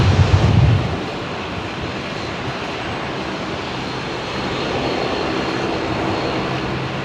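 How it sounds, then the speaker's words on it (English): Gusty wind sweeps across Brisbane airport, a broad steady roar with a heavier buffeting burst at the start that then settles into a constant rushing. "There's quite a gusty wind coming through here now."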